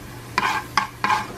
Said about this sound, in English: I'm gonna just add some of this minced garlic to it.